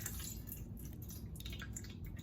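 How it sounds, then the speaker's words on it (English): Water poured onto cheesecloth lining a colander in a home kitchen during cheesemaking, a quiet, continuous splashing and dripping trickle heard alone for a couple of seconds. "I'm gonna pour a little water on this just to wet it down"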